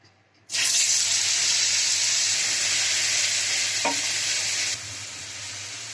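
Chopped garlic, onion and spices hitting hot oil in a pan, a sudden loud sizzle that bursts in and holds steady, then drops to a softer fry near the end, with a brief stir clink.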